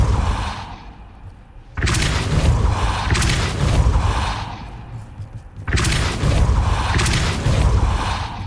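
Depulso force spells blast out twice in Hogwarts Legacy, each a sudden loud whooshing boom with rumbling tail, separated by a quieter lull, no voices over them.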